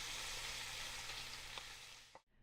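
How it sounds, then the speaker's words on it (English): Bacon sizzles and spatters in a frying pan, a dense continuous crackle heard close up, dying away abruptly near the end as the heat is cut or the pan is moved. "And so I'm just kind of partially frying it, just giving it a little head start on the tuna."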